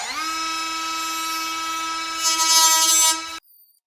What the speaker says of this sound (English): It's just a cutoff tool with just a cutoff wheel on it.